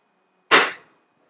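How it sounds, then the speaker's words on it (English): A single sharp, close report from an ASG CZ Shadow 2 airsoft handgun, a crisp snap that dies away within a fraction of a second against near silence. "Okay, let's fire another one."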